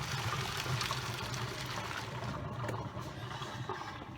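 Tap water running over cooked pasta in a colander for a quick rinse: a steady, soft splashing flow, fairly quiet and constant throughout.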